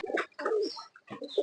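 Teddy pigeons coo in a few close, soft, throaty bursts separated by short pauses, with no talking.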